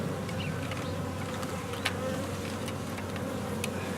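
A honeybee swarm in swarm mode, nesting inside a speaker box during a hive removal, hums in a continuous close drone with individual bees zipping past now and then.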